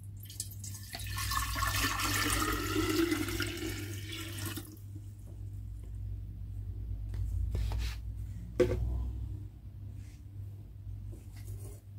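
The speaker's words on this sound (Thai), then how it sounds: "เราเทน้ำส่วนที่เหลือนะคะลงไปในโหลได้เลย" Boiled Indian gooseberry water is poured into a large jar of at least three litres, giving a steady splashing stream for several seconds before stopping, followed by faint drips and quiet handling.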